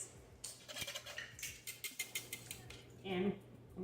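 Cornmeal and other dry cornbread ingredients are whisked in a bowl, the whisk tapping and scraping in quick, light strokes close by at low volume.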